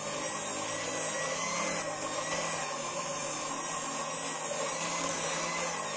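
A Maspion electric hand mixer kneads donut dough with a steady whirring motor drone, constant and moderately close throughout.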